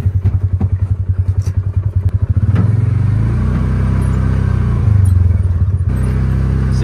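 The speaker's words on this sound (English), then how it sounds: "we're gonna go get the skid steer" A skid steer engine chugs close by on a bison farm, a loud, rapidly pulsing idle that smooths into a steady roar as it revs up.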